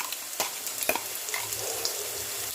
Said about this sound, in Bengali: আবারও খানিকক্ষণ ভেজে নিচ্ছি।